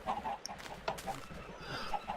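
Chickens cluck in Minecraft, giving short, soft, repeated clucks at a low level over faint background sound.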